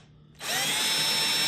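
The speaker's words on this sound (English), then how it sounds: "I'm going to drill it right here." A power drill spins up abruptly and keeps running at a steady high-pitched whine as it bores into plastic, loud and close, with no talk.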